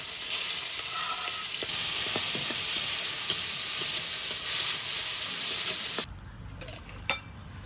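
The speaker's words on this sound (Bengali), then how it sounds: "তো এই তেলে এই মাছ কটাও ভেজে নেব।" Whole small fish frying in hot oil, a loud continuous close sizzle and hiss for several seconds, then dropping to a quieter background with a sharp clink.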